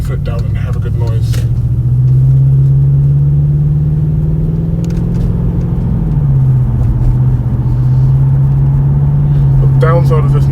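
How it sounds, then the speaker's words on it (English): A steady, loud low drone from a Motec aftermarket exhaust on an Audi RS6 hums continuously while cruising, the pitch dipping slightly midway, with faint bits of voice on top. "The downside of this Motec exhaust is it does drone a bit."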